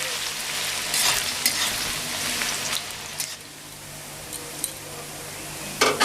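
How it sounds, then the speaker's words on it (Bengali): Carrots stir-fry in a pan, with a steady, close sizzle and a few sharp scrapes and clatters of a spatula on the metal. "গাজরটা মোটামুটি নাড়াচাড়া করে নিয়েছি।"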